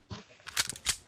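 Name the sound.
weapon being reloaded in a video game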